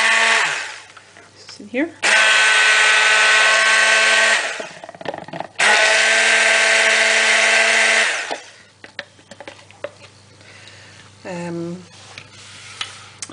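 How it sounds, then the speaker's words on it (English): A powered whisk blends milks and clay mix for silk soap in two loud, sustained whirring bursts close by, followed by brief scraping and a short spoken remark. "I'm just going to whisk up my milks and clay mix."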